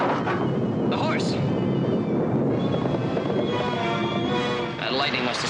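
Deep rolling thunder from a lightning storm rumbles loudly and continuously, with a brief sharp rising sweep and a fainter one later and voices audible beneath.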